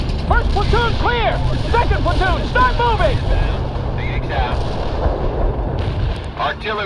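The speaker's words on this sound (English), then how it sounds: "Artillery barrage hit." Artillery barrage in the video game World in Conflict, a continuous roar of heavy explosions and rumbling impacts, loud and dense, with voices shouting over the din.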